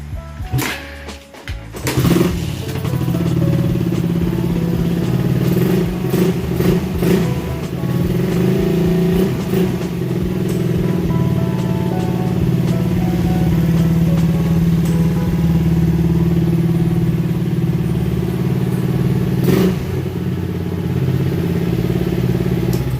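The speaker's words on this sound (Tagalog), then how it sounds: "yun yung tunog ng motor" A Raider 150 motorcycle engine idles loudly and close with a rough, clattering mechanical rattle, running steadily for a long stretch after a few sharp knocks at the start.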